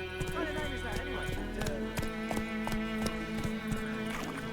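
Roach, a horse in The Witcher 3: Wild Hunt, gallops with quick, rhythmic hoofbeats under a steady game soundtrack, a brief whinny mixed in while a voice speaks over it.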